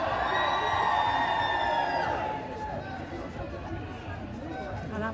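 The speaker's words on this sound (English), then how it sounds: "And that was a cheer for Helen McCrory," Fans at the red carpet premiere of Peaky Blinders Season 5 cheer and whoop loudly for an arriving actor, and the roar then settles into a busy crowd murmur with voices nearby.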